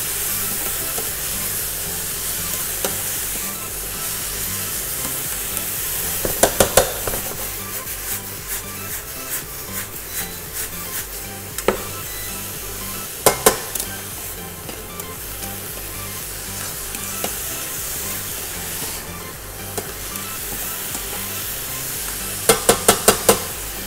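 Mushrooms and onion cook gently in a pan, a quiet steady sizzle and hiss with occasional sharp clicks and spoon taps breaking through at intervals; no voices.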